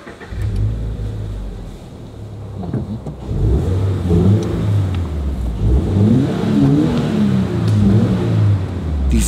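A Toyota GR86 sports car with an aftermarket exhaust system rumbles and revs, deep engine growl rising and falling, loud and close with no talking.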